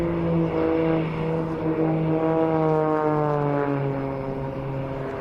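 An Edge 540 aerobatic airplane of carbon fiber and Kevlar flies at the Saudi GA airshow, its propeller engine droning steadily and loudly with a sliding pitch as it maneuvers nearby, alone without voices.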